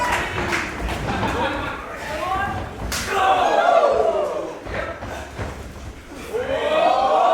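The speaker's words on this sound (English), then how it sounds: "On Haskins swings into a clothesline, turning Oliver almost 450 degrees" A wrestler's clothesline lands in a pro wrestling match at an IWN Super 8 show, a single sharp slam-and-thud under excited commentary and a loud, roaring crowd.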